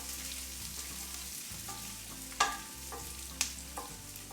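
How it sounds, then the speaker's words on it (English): Onions are stirred while frying in a pan for butter chicken: a soft, steady sizzle, with a couple of sharp scraping knocks from the spoon against the pan, close and fairly quiet. "we're going to stir this until it just changes colour"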